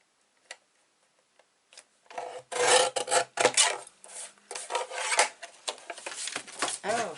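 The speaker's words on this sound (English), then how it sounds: "I'm going to trim this off here." Cardstock for a vintage baby girl album being trimmed, heard as close, repeated rasping and scraping strokes that start after a few faint ticks and continue in uneven bursts to the end.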